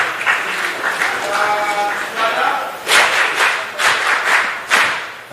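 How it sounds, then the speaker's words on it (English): An audience at an annual meeting of chief administrative officers claps in a short burst of applause, with a scattering of close claps and several swells of clapping. "can you give me another round of applause?"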